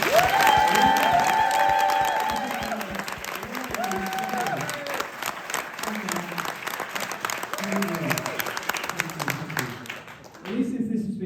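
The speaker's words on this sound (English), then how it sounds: "Can I ask everybody to give me a raucous round of applause?" Wedding guests give the best man loud applause with cheering and whoops, starting strong and then settling into continued clapping under chatter and shouting voices.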